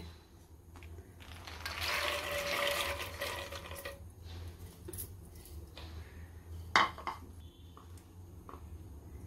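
Chickpeas tipped into a pot of spice paste mixed with water for a chana amti with suran, making a splashy, rushing pour for about two seconds, then a single sharp metallic clink against the pot. No one speaks.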